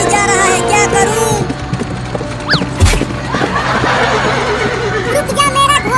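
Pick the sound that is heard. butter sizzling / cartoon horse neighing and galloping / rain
cartoon horse neighing and galloping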